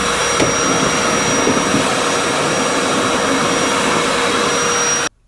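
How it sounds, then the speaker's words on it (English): A shop vac sucks up leaves, dirt and other debris with a loud, steady roaring whine that runs without a break for about five seconds, then cuts off abruptly. "get into all of the spots with a shop vac and just suck up all of the debris that's in there"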